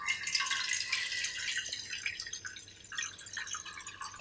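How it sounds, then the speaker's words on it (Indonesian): Water being poured into a cooking pot for vegetarian soto kikil soup, a faint steady trickle and splash that rises and falls for a few seconds with no talk. "Gue sih masukin air dulu dah."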